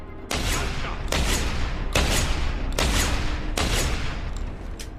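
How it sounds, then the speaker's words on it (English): Shotgun blasts aimed at a breakable wall in Deus Ex: Human Revolution, five loud, booming shots at an even, unhurried pace. "you can use ammo. Like if you have a lot of spare shotgun ammo. It does take multiple shots though."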